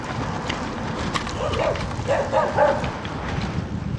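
Fenced-in dogs bark excitedly at a bicycle passing on a country road, a few yips and barks at moderate distance, mixed with steady wind and road noise from the moving bike.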